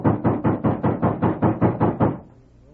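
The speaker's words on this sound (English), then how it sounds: "And then there was a loud knock on the door." Heavy, loud knocking on a door as a radio drama sound effect: about ten evenly spaced, close thuds in a steady rhythm, then silence.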